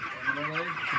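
Chickens cluck on a poultry farm in a village, a dense overlapping chorus of hens close by, steady and moderately loud through the whole moment.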